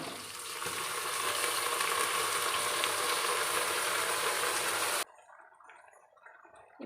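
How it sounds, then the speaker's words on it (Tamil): Washed mutton dropped into a hot pan for mutton kulambu, a loud dense hiss of frying that holds steady for several seconds and then stops suddenly, leaving quiet room sound. "இப்போ கழுவி வச்ச மட்டன் இதில் சேர்த்துக்கலாங்க"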